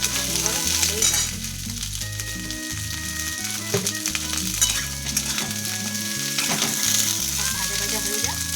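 Cauliflower, beans and carrots fry for khichdi in a pan, giving a steady, close sizzle that runs throughout with occasional stirring, under background music.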